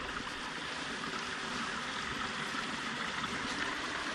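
Rushing water spills over rocks at the top of a waterfall in a forest in Indiana's Hoosier National Forest, a steady, dense broadband roar that stays close and even throughout with no voices.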